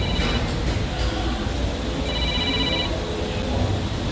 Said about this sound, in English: As my phone tries to ring while I'm trying to do this.